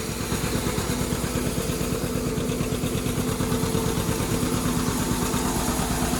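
A John Deere 630 tractor engine runs hard under load while powering an 815 feed master grinding feed, giving a loud, close, steady throbbing roar with a rapid low pulse and no break throughout.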